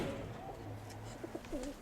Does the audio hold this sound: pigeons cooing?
yes